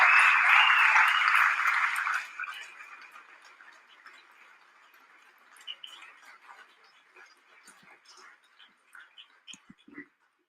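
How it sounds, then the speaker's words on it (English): An audience claps in a dense burst of applause that is loud for about two seconds and then thins to scattered, fading claps. "Let's get some more hand claps for your boy Perfect Timing, man, and then the whole audience, man."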